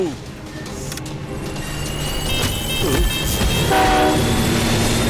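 A cartoon train rumbles closer through a time portal, its roar building steadily with a horn-like tone and clattering, loud and continuous to the end.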